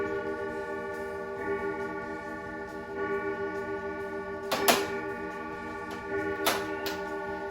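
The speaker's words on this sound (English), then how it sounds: "We'll let the clock chime." A wall clock chimes twelve o'clock indoors, sustaining steady ringing bell tones with a soft ticking rhythm beneath, while a couple of sharper metallic clinks cut through near the middle and end.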